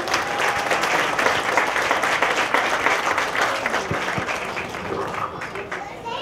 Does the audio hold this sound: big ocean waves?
no